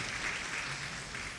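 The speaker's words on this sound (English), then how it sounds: "Can we get another round of applause for his class?" An audience at a Bhagavad Gita class in Toronto applauds steadily, dense clapping that stays even and fairly loud from start to finish with no talk over it.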